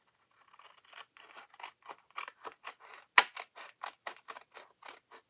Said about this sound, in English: I'm just going to take a pair of scissors